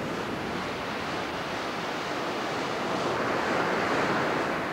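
Ocean waves break and wash up on a Cape May beach, a continuous broad roar of surf that swells slightly toward the end, steady and fairly loud, with no voices.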